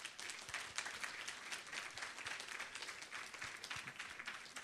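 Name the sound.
audience applause at a convention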